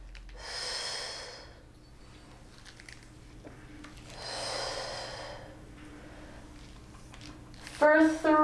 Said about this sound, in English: And exhale, and inhale.